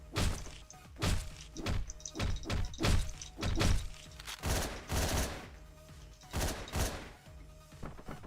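Gunshots in Hotline Miami 2, a series of loud, punchy bangs fired in uneven bursts across the clip, with no talking over them.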